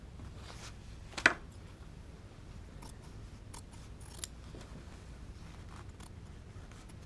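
Scissors make one sharp, close snip through fabric seam allowance while a jacket is sewn, followed by a few faint clicks over quiet room noise.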